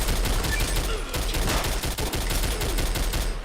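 Gauss rifles fire in the video game Fallout New Vegas, a dense rattling barrage of rapid overlapping shots that keeps going with a brief lull midway.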